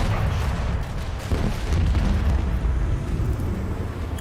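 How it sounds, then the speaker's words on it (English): A sustained barrage of macro cannons firing in the video game Warhammer 40000: Rogue Trader, heavy overlapping booms rumbling continuously and loudly for several seconds with no pause. "Let the macro cannons sing their deadly litany"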